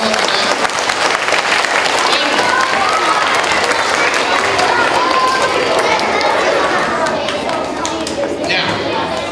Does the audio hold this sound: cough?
no